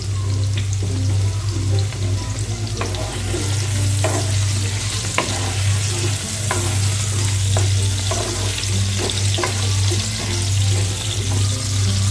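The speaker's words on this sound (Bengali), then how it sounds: "আলুগুলোকে আমি ভালো করে একটু ভেজে নেবো" Potatoes fry with salt and turmeric in a loud, dense sizzle close by, with repeated stirring knocks and scrapes over a steady low hum, and no voices.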